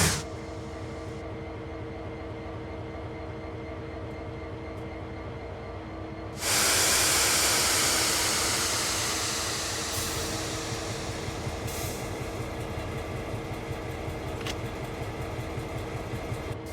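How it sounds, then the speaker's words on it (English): A diesel locomotive in the Train Sim World 5 game creeping slowly onto a turntable, a steady engine rumble with a sudden loud burst of air hiss that gradually fades, then continues as a constant drone. "As you drive onto the turntable, take it very slowly so you don't overshoot."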